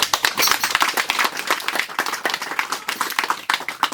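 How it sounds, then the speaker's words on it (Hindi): A church congregation claps for God, a burst of fairly close, uneven handclaps that swells and then thins out into scattered claps. "एक बार ताली बजाइएगा परमेश्वर के लिए"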